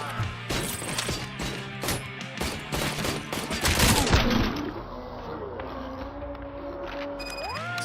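Rapid gunfire in the video game RoboCop: Rogue City, with dense repeated shots and impacts building to a loud crash, then giving way to a steady electronic hum and rising synthetic tones.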